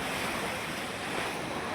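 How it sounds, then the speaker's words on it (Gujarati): Sea waves breaking at Gomti Ghat in Dwarka, a steady loud wash of surf with wind buffeting the microphone and no pauses throughout. "જોઈ લો ખાલી આમાં કેટલા મોજા ઉતરે છે"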